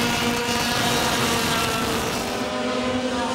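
100cc Yamaha piston-port racing karts with tuned exhausts scream past during a Senior Yamaha Light race, a loud, dense two-stroke buzz filling the whole stretch.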